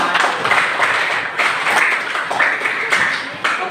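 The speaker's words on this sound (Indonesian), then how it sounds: "Berikan aplaus buat teman." Classroom applause for a classmate, a dense burst of many hands clapping at close range that continues steadily throughout with slight swells.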